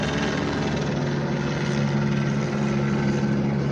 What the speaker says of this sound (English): Look at this helicopter real quick. Let me wait until the helicopter pass